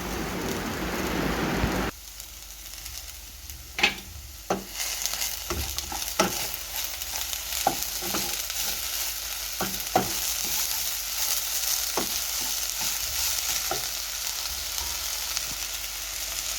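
Sambar cheera greens sauté in a hot pan with a steady, rain-like sizzle, while a spoon stirs and taps against the pan in irregular clicks throughout.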